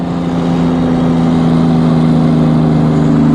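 A turbocharged H6-swapped Subaru WRX STI accelerates hard with its tires spinning, a loud, steady engine drone with a strong low hum that holds and swells slightly over a few seconds.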